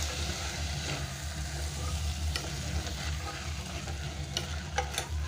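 Chickpeas get mixed into a curry masala in a pan for a chickpea kuzhambu, with a faint sizzle under soft, intermittent scraping and stirring and a few sharper clinks toward the end.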